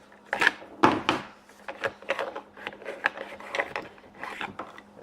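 Harbor Freight Torx screwdrivers are pulled one after another from a storage holder, making a close, uneven run of clatters, scrapes and small knocks with short gaps between them.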